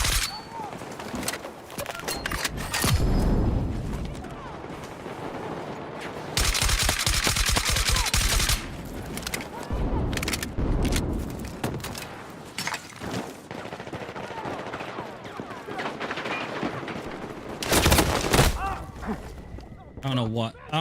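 A VSSM rifle in a video game fires in rapid bursts and long automatic volleys, with sharp cracks and pauses between strings, loud and close, while a player talks over the shooting.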